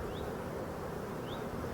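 Honey bees hum steadily inside an open beehive full of frames, a dense, even drone close to the listener with no voices.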